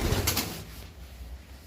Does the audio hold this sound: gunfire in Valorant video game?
no